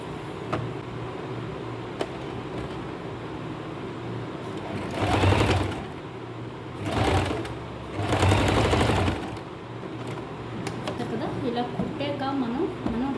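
A sewing machine stitching a kurti runs in three short bursts of whirring, rattling motor, close and loud, separated by quieter stretches where a person talks.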